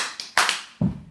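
Hands clapping, three or four sharp close slaps in quick irregular succession, the last one duller and lower.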